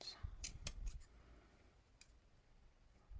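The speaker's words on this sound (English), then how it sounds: "cut the yarn, cut another one" Scissors snip through yarn while making a crocheted Victorian icicle Christmas ornament, giving a few quick close clicks in the first second and one more faint snip later, with quiet room noise between.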